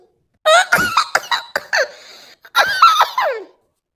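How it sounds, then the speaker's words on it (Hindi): A cartoon character coughs repeatedly in a rough fit, a burst of several harsh coughs, a brief pause, then another short run, close up. "जरा जरा काम कितना खांसी आवत है।"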